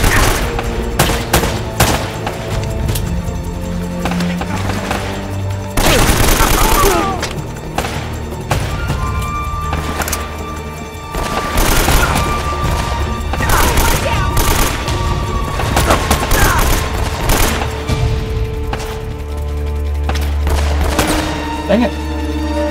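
Rapid AK rifle bursts and scattered gunfire in the video game Uncharted: Drake's Fortune, loud and repeated across the scene with thuds and explosions mixed in, and a voice talking between the shots.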